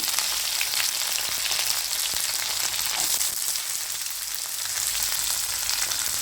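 Onion, garlic, ginger and curry leaves sautéing in a hot pan for a Kerala chickpea curry, giving a steady close hiss and crackle of frying with faint stirring scrapes and no voices.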